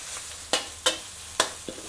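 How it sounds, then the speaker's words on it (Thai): Pounded chili and garlic stir-fry in a little oil, giving a steady low sizzle broken by four sharp scraping clacks of a spatula against the pan, heard close up and without talk. "คั่ว ๆเอาพริกกับกระเทียมอะค่ะ ที่เราโขลกไว้นะคะใส่ลงไป"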